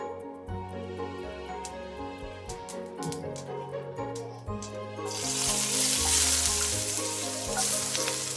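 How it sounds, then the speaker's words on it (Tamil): Mustard seeds splutter and pop in hot oil in a pan for a Tamil horsegram stir-fry, a crackling sizzle that swells louder midway, heard under steady background music. "கடுகு நல்லா பொரிஞ்சு வரட்டும்."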